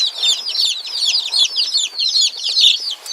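Baby chicks being raised off grid peep continuously in high, rapid chirps, many birds calling over one another at close range in a lively, pulsing chorus.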